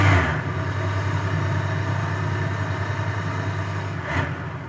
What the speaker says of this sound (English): So I'll rev it up.